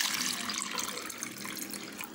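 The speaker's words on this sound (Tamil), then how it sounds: "அதே கப்பில் அதே அளவு தண்ணி ஊற்றிக்கலாம்" Water runs steadily into a cup for sugar syrup, a continuous close pour with bright splashing and no pauses.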